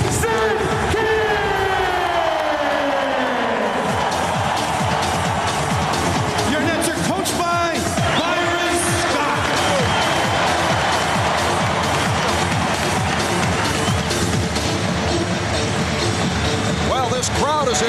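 An arena crowd at a 2002 NBA Finals game between the Lakers and Nets roars, yells and whoops steadily, the cheering swelling in the background while an announcer talks over it.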